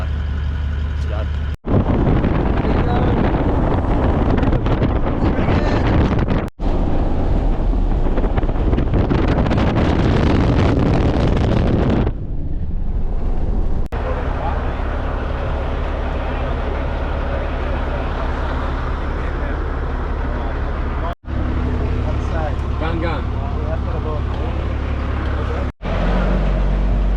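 A car drives a road in Arnhem Land, Australia, with a loud, continuous rush of road and engine noise and heavy wind buffeting the microphone. The sound drops out with brief cuts several times.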